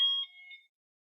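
A key fob remote for an Eahora M2 electric scooter sets off a short, bright electronic alarm tone that sounds once and quickly cuts to silence.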